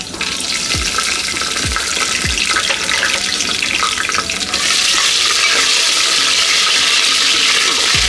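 Cashews fry in ghee in a pan for ghee rice over medium heat, giving a loud, close, continuous sizzle. Scraping stirs sound near the start, and the frying grows more intense halfway through.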